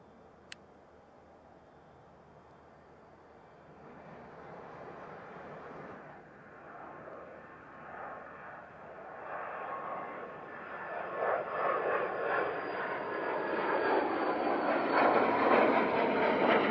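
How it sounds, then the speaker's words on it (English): A Cessna Citation Encore business jet at Centennial Airport on a sunny holiday morning, its turbine engine rumble building steadily from a faint distant whine to a loud, broad roar as it nears. "This is a Citation Encore."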